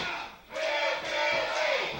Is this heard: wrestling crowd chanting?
yes